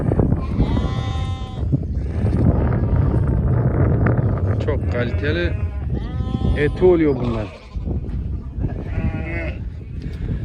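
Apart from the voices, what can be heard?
lambs bleating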